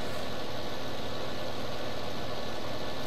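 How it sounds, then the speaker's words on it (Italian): A tractor engine idles in Farming Simulator, a steady, even rumble with a constant low hum and no changes in pitch or loudness, heard alone without talk. "Scusate, ma mi devo mettere in riga con il nostro trattore."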